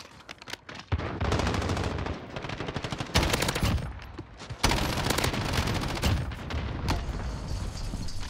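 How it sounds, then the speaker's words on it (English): Assault rifle gunfire in the Modern Warfare video game, long loud bursts of rapid automatic fire with brief pauses between strings, dense and close. "Stop shooting."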